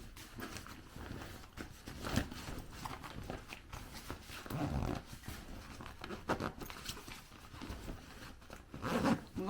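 A zipper is pulled along a Vercclik compression storage bag in a string of close, scratchy rasping strokes with brief pauses between them, with handling and rustling of the plastic throughout.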